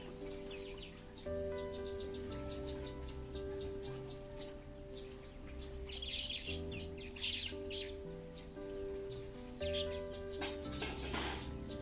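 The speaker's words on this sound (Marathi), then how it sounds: "सुगरण पक्षी चिमणी पक्षी चारा खाण्यासाठी आलेले आहेत" Busy chirping and calling from a flock of weaver birds and sparrows, steady and close, with a constant high insect-like tone underneath.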